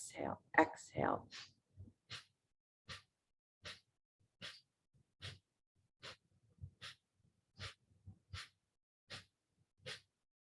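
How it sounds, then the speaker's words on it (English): During pranayama practice, short forceful exhales through the nose puff out in a steady rhythm, around a dozen of them about every three quarters of a second, close and soft, after a few quicker breaths at the start. "Breathe in about halfway, and then begin to exhale, exhale, exhale, exhale."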